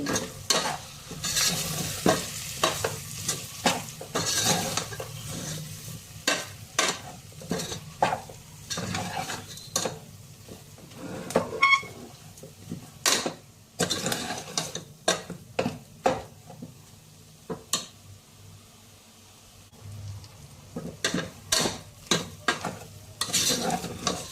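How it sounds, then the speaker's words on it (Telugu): Ground masala of chili powder and coriander powder frying in a pan for a taro root and mutton curry, with a ladle scraping and knocking against the pan in an irregular rhythm over a steady close sizzle, no talking. "ధనియాల పొడి, ఇవన్నీ బాగా ఫ్రై చేయండి"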